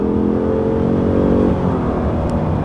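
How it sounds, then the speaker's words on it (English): A 2021 Ford F-150 Hybrid pickup accelerates from inside the cab, its engine note rising in a steady whir and then shifting as it drops down to third gear, loud and unbroken with no talk. "so I'll give it another little acceleration here. Dropped all the way down to 3rd."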